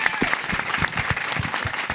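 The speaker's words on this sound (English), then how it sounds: "A big round of applause for all the wonderful chefs who have come out" A crowd applauds steadily at a women-in-culinary-industry event honoring chefs, dense clapping throughout with a voice faintly mixed in underneath.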